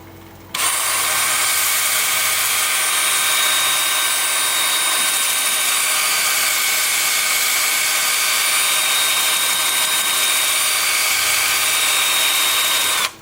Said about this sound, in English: Lathe is going to be spinning forward at about 350